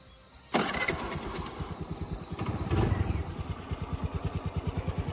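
A 2013 Honda Activa scooter engine cranks and catches, revs briefly, then settles into a steady, smooth, rhythmic putter at idle, close and fairly quiet.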